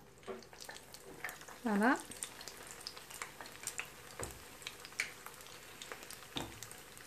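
Makroud pastries fry in hot oil with a soft, steady sizzle and scattered crackles and pops, someone speaking briefly over it.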